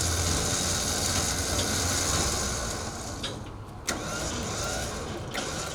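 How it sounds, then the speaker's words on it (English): A truck moves in an alley during urban logging, its engine a steady broadband rumble with mechanical clanks and a couple of sharp knocks, no talking. "I'm gonna move the truck around a little bit first."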